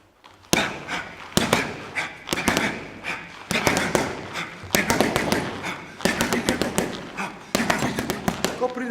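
Rapid bursts of punches thudding into a punching bag during an endurance workout, sharp close impacts in quick clusters of about six with short pauses between sets.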